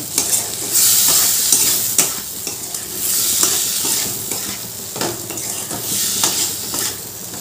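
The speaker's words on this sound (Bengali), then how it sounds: "এবার আমি ভালো করে মশলার সাথে কষিয়ে নেব।" Prawns rubbed with salt and turmeric sizzle loudly in a pan as they are stir-fried with spices, with steady frying hiss and repeated scraping strokes of a spatula against the metal.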